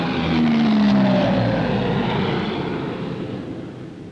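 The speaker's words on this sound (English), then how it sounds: "The Bristol Britannia, military version of the Whispering Giant" An RAF Bristol Britannia military transport aircraft, the military version of the Whispering Giant, roars steadily nearby with a propeller engine drone that slowly fades over four seconds.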